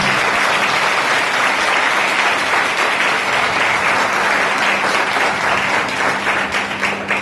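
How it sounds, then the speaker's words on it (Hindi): Loud, sustained applause from a church congregation at a service in Jodhpur, dense clapping filling the space continuously for several seconds with no talk over it. "हम एक बार जोर से ताली बजाएंगे यीशु मसीह के लिए।"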